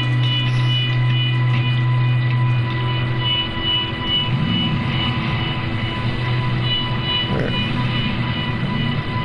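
A helicopter flying in GTA Online, a steady droning rotor and engine hum running throughout at close range, mixed with in-game background tones and a low rising-and-falling whine.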